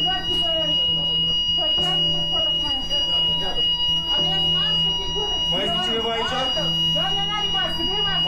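An electronic fire alarm in a hospital rings steadily with a constant high tone, while voices and commotion continue over it throughout.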